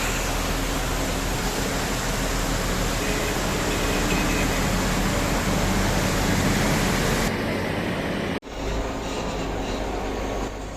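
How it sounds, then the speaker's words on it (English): Waterfalls pouring into a flooded mine pit make a loud, continuous broadband rush that holds steady for several seconds, then drops abruptly and resumes more quietly. "And those beautiful waterfalls?"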